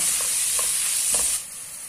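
Garlic, turmeric, black pepper and salt frying in a pan for a meatless Algerian bell pepper tajine, a steady bright sizzle with a few soft stirring knocks, close up, then the hiss abruptly drops to a quieter simmer.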